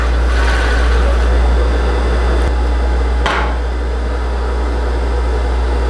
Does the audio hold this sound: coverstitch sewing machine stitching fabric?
yes